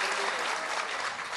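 Dense, sustained applause from an audience at a Mumbai poetry mushaira, loud and close, a continuous wash of clapping hands with a faint murmur of voices beneath.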